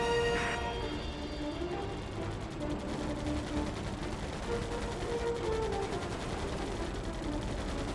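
Sustained machine gun fire in the aerial combat game Air Conflicts: Pacific Carriers, a steady rattling stream over a droning engine, moderately loud and continuous.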